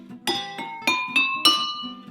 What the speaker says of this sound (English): I really think that it sounds best if you hit the glass right in the middle